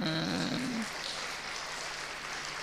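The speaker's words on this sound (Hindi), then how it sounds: "ताली बजाना" Audience clapping hands in a spiritual class, a steady patter of applause at moderate distance, with a brief tonal sound at the start.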